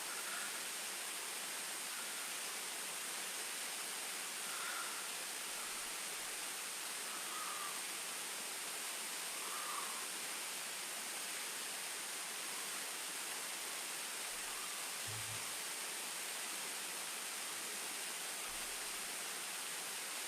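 Waterfall water rushing steadily in a broad, constant roar that holds unchanged throughout, heard in a virtual-reality tourism scene with no talk over it.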